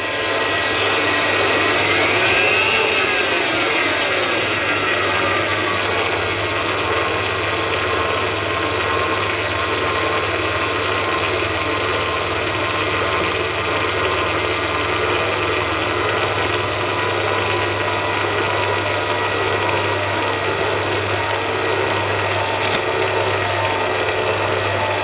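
An electric mixer runs continuously at a steady, loud pitch, beating butter cake batter with flour added, a constant motor whine with a low hum underneath.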